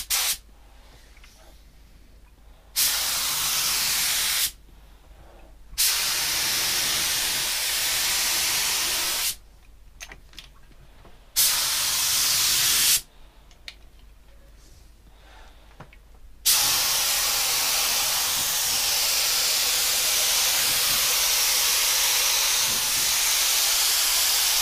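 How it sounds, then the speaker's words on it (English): A hospital bed is spray painted in long bursts, a loud steady airy hiss from the spray gun that starts and stops several times, with short quiet gaps and a final long continuous pass. "I'm going to put some paint on this bottom because I'm going to stand it up again and spray it in here."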